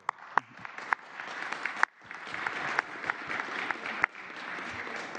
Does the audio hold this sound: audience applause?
yes